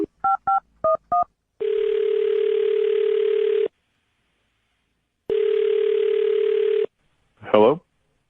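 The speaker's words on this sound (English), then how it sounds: "I'm dialing his phone number right now" Four quick touch-tone beeps, then two long ringback tones separated by a pause, followed by a brief voice answering.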